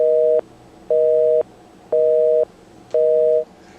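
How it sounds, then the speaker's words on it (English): Telephone busy signal on a speakerphone call, a dual-tone beep repeating four times in an even on-off rhythm, clear and alone with no talking. "what we're doing now apparently is calling Aaron's husband on speakerphone"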